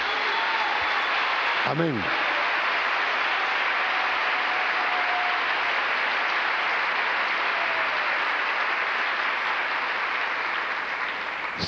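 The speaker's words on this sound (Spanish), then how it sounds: "denle un aplauso al Señor" A church congregation applauds in a long, dense, steady wash of clapping that fills the room, with a short spoken exclamation early on.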